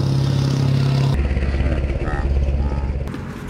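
A 2011 Subaru STI engine runs loud and close with a steady droning tone that drops and roughens after about a second, and voices talk over it.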